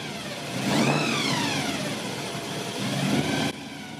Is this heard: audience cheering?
no